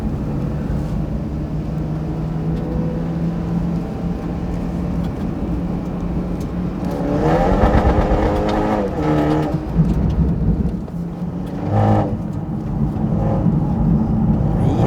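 A tuned Toyota GR Supra engine at Tsukuba circuit, droning steadily then rising into revs and shifts mid-clip, loud and close, with no talk over it.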